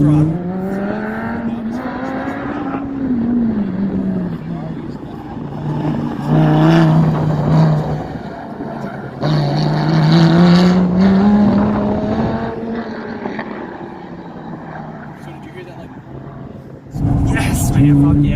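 A Lamborghini runs at full throttle on a race track, its engine droning loudly and rising in pitch with shifts, while someone talks excitedly over the roar throughout.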